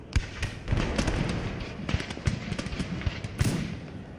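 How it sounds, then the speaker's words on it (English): Cannons on city walls fire during an Empire: Total War siege battle, giving a scattered series of muffled booms and thuds at a fairly low level, with no talk over them. "our cannons on the wall are now firing"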